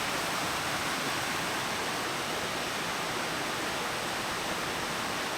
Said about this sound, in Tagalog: Dito siya pumapasok yung tubig.